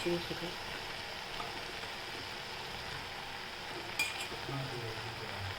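Idli manchurian being stirred in a pan, a soft, steady sizzle with faint scraping as the pieces are turned, low and close, with one brief sharp clink of a utensil partway through.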